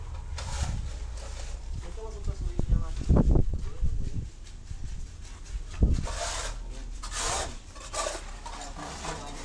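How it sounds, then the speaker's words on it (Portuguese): Iron bars are hand-sanded and cleaned to prepare them for painting at an outdoor wall-repair job. The sound is a steady, close, raspy scraping with irregular strokes and a few knocks. Speech is tagged, but no words are transcribed. "Tá lá o Gão lixando lá os ferros pra gente pintar, limpando, lixando."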